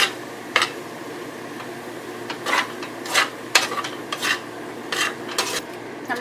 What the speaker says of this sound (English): just toss the cheese to get everything kind of coated well together